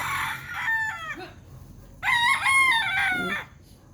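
Fighting roosters (gamecocks) on a Filipino property crowing twice, one close, loud cock-a-doodle-doo after another with a pause between, faint background noise and no talk.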